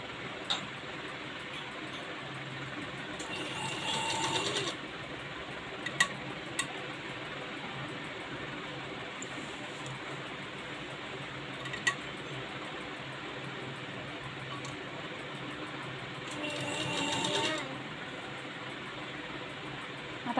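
A sewing machine stitches a sleeve onto a ready-made frock, its motor whirring in a few short bursts over a quiet room, with scattered small clicks between runs.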